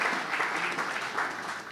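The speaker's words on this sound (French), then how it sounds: "Vous restez là, voilà, on les applaudit." Conference audience clapping continuously, a steady moderate patter of applause with no break.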